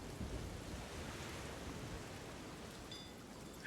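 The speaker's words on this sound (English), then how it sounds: "God, I'm in a storm." Stormy weather in the Sea of Thieves video game, a faint steady wash of heavy rain with a low distant thunder rumble, no voices.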